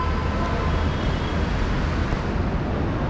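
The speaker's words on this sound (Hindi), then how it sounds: "अभी आ गई है मेरी मेट्रो" A metro train pulls into a station in Kochi with a dense, steady roar of wheels and rumble that fills the space evenly for a few seconds, with no voices.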